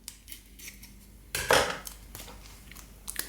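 Scissors cut crisp tostinette toasts in half, with one loud crunchy snip near the middle surrounded by lighter clicks and taps.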